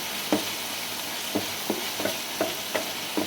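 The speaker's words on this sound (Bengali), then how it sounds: "দেখুন মশলাগুলো কেমন আমার ভাজা ভাজা হয়ে গেছে" Spices fry in a pan for an eggplant-and-egg dish, a steady sizzling hiss broken by about seven evenly spaced scraping strokes of a stirring spoon, close and moderately loud.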